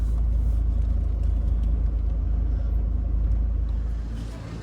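A Peugeot 807 minivan idling and creeping slowly to park on a rough offroad track, its steady low engine rumble close and loud throughout, easing off slightly at the end.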